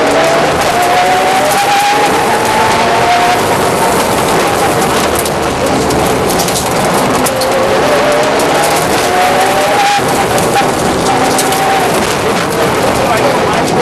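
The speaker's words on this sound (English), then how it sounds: "Second away in his Mitsubishi Evo 8, complete with a second-hand engine he had bought off eBay, it was Dougie Hall with Andy Richardson on" A Mitsubishi Evo 8 rally car fitted with a second-hand engine drives a rally stage on Mull, its engine steady and loud as it climbs and shifts through the gears, under constant broad noise with commentary over it.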